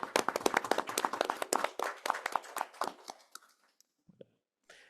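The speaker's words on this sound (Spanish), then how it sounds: "Un aplauso, por favor, por el secretario." A room full of security conference attendees claps for the secretary, a brisk burst of hand claps that thins into a few scattered final claps and then silence.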